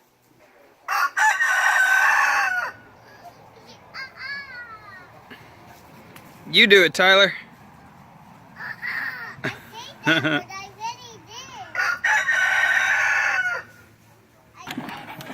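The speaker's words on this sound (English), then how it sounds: "The rooster." A rooster crows a few times outdoors, loud and fairly close, between stretches of children and an adult talking over each other.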